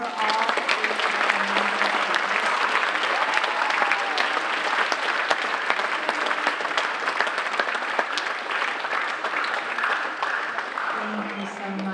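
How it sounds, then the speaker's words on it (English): An audience at an eighth-grade speech event applauds loudly and steadily for several seconds, a dense wash of clapping that tapers slightly near the end, with a brief voice heard at the start. "Can we have another round of applause for"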